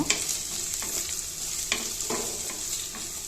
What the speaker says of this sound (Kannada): ಒಂದು ಇಂಚು ಶುಂಠಿ ಇದನ್ನು ಅಷ್ಟೇ ಫ್ರೈ ಮಾಡ್ಕೋಬೇಕು